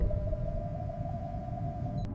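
Humpback whales sing in a cartoon undersea scene, heard as a long, steady, sustained tone that holds evenly over a low rumbling water background and ends with a brief click.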